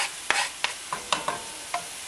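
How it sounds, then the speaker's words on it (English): Onions and garlic frying in hot ghee: sharp hissing bursts, several crackling spurts at irregular moments over a steady sizzle, close by. "Hear it sizzle. It's perfect."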